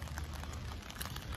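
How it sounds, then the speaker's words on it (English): Steady rain falls outdoors as a soft, even patter with scattered drop ticks, continuous and moderately quiet throughout. "And as you can see, it's raining."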